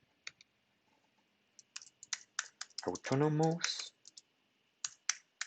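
Computer keyboard typing in short bursts of clicks as a system name is entered, close and fairly quiet, with a brief spoken word in the middle.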